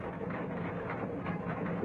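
A rack railway steam locomotive climbs a steep grade, giving a steady, dense mechanical rumble with busy rhythmic clatter throughout, heard fairly close and continuous with no talking.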